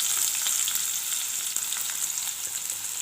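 Sliced medium onions frying in a pan with spices for a Tamil kurma, a steady bright sizzle with faint stirring scrapes, close and continuous with no talking.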